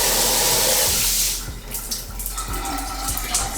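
Running water from a leaky shower head cuts off, and a few faint, scattered drips follow in the quiet.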